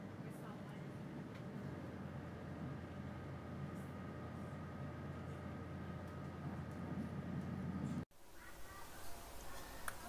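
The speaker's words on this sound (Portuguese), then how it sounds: "Então, peguei o trem" Train ride from Siena toward Poggibonsi: a steady low rumble and hum of a moving rail carriage, continuous and moderately quiet, cutting abruptly near the end to a quieter interior ambience.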